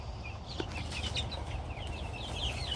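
Faint, high chirping and clucking from a young rooster chick, repeated in quick little peeps over a low background rumble.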